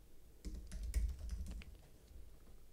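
Quiet clicks of a computer keyboard as a server address is typed in, a short burst of rapid keystrokes up close that tapers into a few scattered taps.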